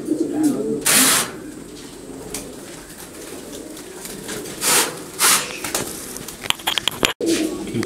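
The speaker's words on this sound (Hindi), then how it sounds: "ये वाइट जैकोबिन, बहुत ही टॉप क्वालिटी" White Jacobin fancy pigeons from a breeder pair coo softly on a pigeon farm in Pakistan, with several short bursts of cooing and fluttering over faint background noise.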